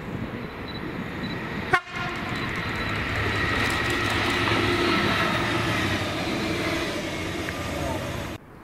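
A delayed freight train hauled by two class 66 locomotives rumbles past in Scotland, a steady broad roar with a sharp click near the start and a faint horn-like tone, loud and continuous for the whole stretch.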